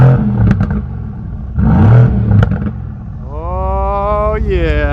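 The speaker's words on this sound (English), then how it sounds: "let me hear a couple revs, Anthony." A budget Bentley engine revs close up in a few quick blips with a clattery edge, followed by a sustained rising engine whine.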